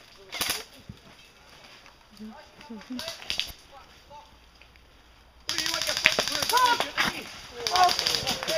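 Airsoft guns firing during an outdoor skirmish: scattered sharp pops and short bursts, some near and some farther off, mixed with people shouting, with a louder, denser stretch toward the end.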